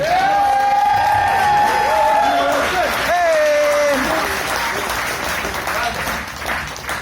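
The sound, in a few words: applause and cheering for the bride and groom's parents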